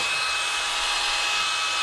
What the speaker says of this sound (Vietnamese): Ba chức năng bàn vít khoan và búa khoan tường ha